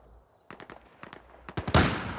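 A quick burst of gunshots in the video game Battlefield 4, several sharp cracks in irregular succession growing louder, ending in a heavier blast.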